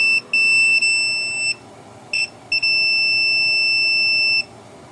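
Multimeter continuity beeper sounds while a blown thermal fuse from a Kenmore Elite HE4 dryer is tested, giving a loud steady high electronic tone that starts, breaks off briefly, then holds for about two seconds.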